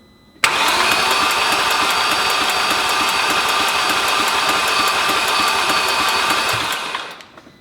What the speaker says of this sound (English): You're going to be running the starter quite a bit to just throw the engine over